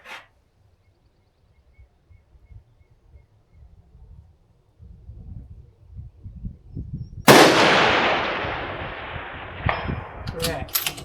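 A single loud rifle shot cracks out sharply about two-thirds of the way through, its report ringing and decaying over a few seconds, preceded by quiet outdoor rustling and low handling noise.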